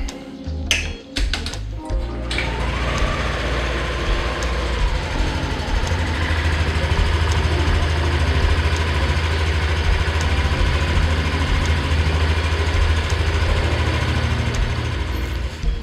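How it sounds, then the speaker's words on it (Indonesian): A Yamaha NMAX scooter engine idles steadily after being started during radiator coolant service at home, a continuous low, even hum with faint clicks and taps on top, close and with no talking. "Sekarang kita nyalain mesinnya."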